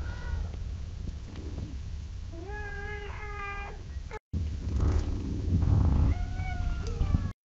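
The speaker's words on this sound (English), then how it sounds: "there's just cat noises all around me" AI-generated repeated cat meows with a slightly synthetic, warbling quality, several overlapping calls in quick succession over a low rumbling background.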